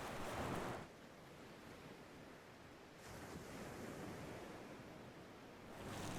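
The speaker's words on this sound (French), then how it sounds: "Dans cette bassine, on va mettre du sable et de l'eau de mer. On va secouer" A basin of sand and seawater is shaken, producing faint, rushing, surf-like swishes that swell and fade in a few broad waves.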